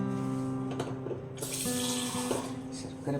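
Water is poured into jaggery syrup for neyyappam batter, a close, splashing trickle that swells into a brighter gush partway through, with faint clinks around it.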